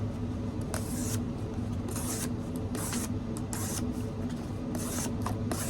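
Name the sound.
M390 steel knife slicing double thickness cardboard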